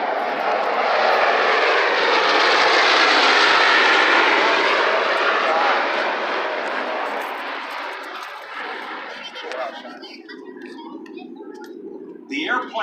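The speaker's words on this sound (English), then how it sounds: "The airplane, that B-29, is so advanced for its time" A B-29 bomber named Doc passes overhead with a loud, broad propeller-engine roar that swells, then slowly fades into the distance, with a few faint voices near the end.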